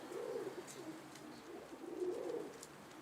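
Soft, low pigeon cooing in two rolling phrases with a brief pause between, fairly close, over faint background hiss.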